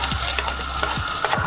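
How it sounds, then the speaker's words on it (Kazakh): Onion fries in hot oil in a pan, a brief, dense sizzling hiss with a few soft stirring knocks, close and steady throughout. "Майымызға пиязды салып қуырып аламыз."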